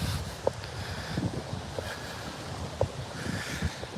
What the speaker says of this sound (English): This river's got quite a crazy current here.